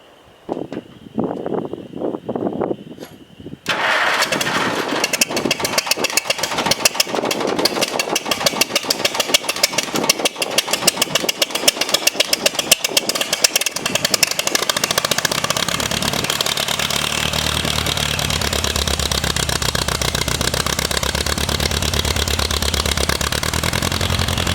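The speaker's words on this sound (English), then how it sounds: "I do want to start the tractor though." A few clicks and cranks, then a tractor engine that is missing on one cylinder catches and settles into a steady, loud rumbling idle that continues to the end.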